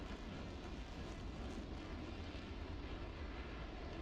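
F-16 Viper fighter jets taking off produce a continuous broadband engine roar, steady and loud without pause, with no talk over it.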